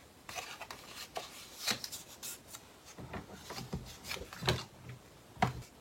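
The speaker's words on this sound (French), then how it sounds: "nous allons plier à 2 cm de chaque côté" Paper being folded and creased into a square for a handmade explosion box craft, with soft rustles and rubbing taps at a close distance. The sounds come in scattered bursts, and two or three sharper creases stand out.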